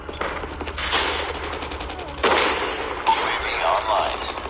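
Gunfire in Call of Duty Mobile team deathmatch on the Killhouse map, 12 gauge shotgun blasts and other weapon bursts in loud, layered volleys with a fast rattle of shots, dense and continuous.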